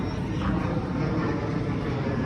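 A steady, loud rotor-and-engine drone fills the air, a helicopter passing overhead in Miami with a constant rumbling whir.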